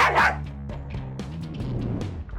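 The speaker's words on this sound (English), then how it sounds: "Yorick suddenly began barking" An animated dog suddenly starts barking as a fight is about to break out, its sharp barks sounding near over a steady tonal background.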